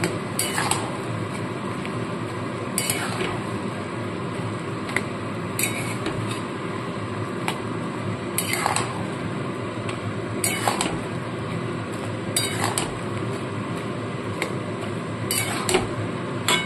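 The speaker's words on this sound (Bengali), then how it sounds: "এবার আমি এখানে ভেজে রাখা ফিশ পকোড়াগুলো সমস্ত দিয়ে দিচ্ছি। দিয়ে ভালো করে মিশিয়ে নেব।" A spoon clinks and scrapes against a pan as fried fish pakoras are stirred into boiling gravy for chilli fish, with sharp metallic taps recurring every second or so over a low background hum, close and with no voices.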